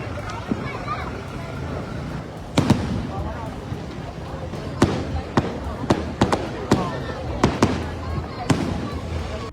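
Fireworks burst during New Year celebrations in Sri Lanka: scattered sharp bangs, some in quick pairs or clusters, crack out over a steady rumble of background noise.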